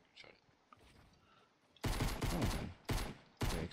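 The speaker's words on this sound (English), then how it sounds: "I'm getting shot at" Gunfire in the Fortnite battle royale video game: after quiet faint noise, loud rapid bursts of automatic fire erupt in three close, clipped volleys, with brief gaps between them.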